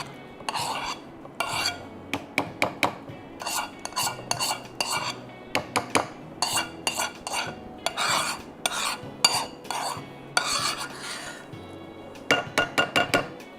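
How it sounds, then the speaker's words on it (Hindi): Metal spoon scraping and clinking against a pot as blended rice goes into kheer and gets stirred, with irregular bursts of scraping strokes separated by short pauses, close and clear with no talking. "और साथ में हम डाल देंगे ये हमारा चावल जो हमने ब्लेंडर में ब्लेंड किए हैं।"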